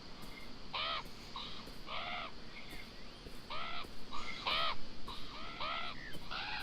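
Repeated harsh cawing of several crows in the video game Beyond Eyes, irregular calls overlapping and growing louder toward the end, heard alone over a soft ambient background.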